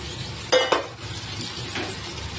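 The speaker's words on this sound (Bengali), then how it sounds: "এবার আমি ফুলুরিগুলো এর মধ্যে দিয়ে দেবো, দিয়ে কষিয়ে নেবো ভালো করে।" Fritters are stir-fried with potatoes and peas in a pan under a steady low sizzle, broken by a couple of sharp utensil clinks and scrapes close by.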